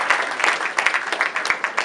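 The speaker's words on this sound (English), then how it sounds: "Let's give him a round of applause." Audience applause at a conference gathering, a brief burst of fairly close, uneven clapping with scattered individual claps standing out.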